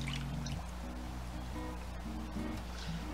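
Hog maws washed by hand in a sink of water, steady sloshing and trickling with small drips and splashes, close and fairly quiet, under a constant low hum.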